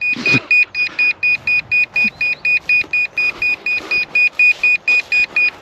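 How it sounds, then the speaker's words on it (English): A low-battery alarm beeper on a VolantexRC Trainstar Stunt RC trainer plane pulses in a steady, rapid run of about two dozen shrill electronic beeps, loud and close, with brief voice sounds and faint background noise underneath. "We're running out of battery beeper"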